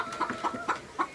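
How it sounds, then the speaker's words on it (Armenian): A hen on a small farm clucks in a quick run of about four short, soft clucks, fairly faint with no other sounds. "թե ածել չի որ կչկչում ա"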